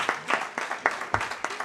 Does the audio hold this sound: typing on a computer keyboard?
no